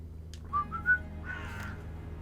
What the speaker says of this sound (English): I wish Crow was with me. I feel less alone with that silly bird around.